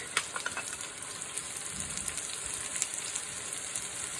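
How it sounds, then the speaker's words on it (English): Mushrooms and vegetables saute in a pan, giving a soft, steady sizzle with occasional light crackles and stirring taps, fairly quiet and with no voices. "You want the bottom of those mushrooms to caramelize just a bit. And while the veggies are sauteing, add the garlic."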